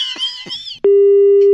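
A short muffled voice, then a single steady electronic tone holds for under a second before cutting off.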